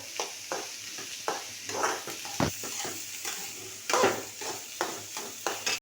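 Onion sizzling in plenty of hot oil for koshimbir, with repeated scraping and stirring strokes against the pan over a continuous close frying hiss.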